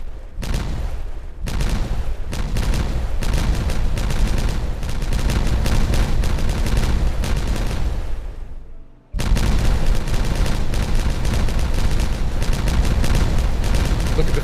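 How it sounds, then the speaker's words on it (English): A rapid series of explosions goes off in the Timberborn video game, dense crackling booms that keep up almost without a break, stop for a moment, then resume just as loud. "I'm going to go ahead and detonate this. Everybody ready for the big series of kabooms?"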